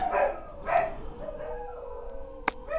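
Dog barks in a video game of Thai chess (makruk): two clear barks near the start, then fainter yelps and a sharp click, moderately loud and close.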